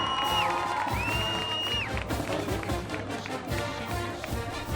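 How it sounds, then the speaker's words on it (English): A stadium crowd at a high school football game, Mahwah at Westwood, applauds and cheers the seniors. Steady, dense crowd noise of clapping and whooping carries on throughout, with a few high whistle-like tones. "please, one last round of applause for all our seniors tonight"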